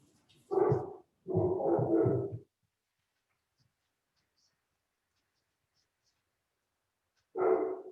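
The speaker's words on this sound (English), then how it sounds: "They're running around looking for the dog that just barked" A dog gives a few short, loud barks close by, first a single bark and then a rapid cluster, with a final bark after several seconds of silence.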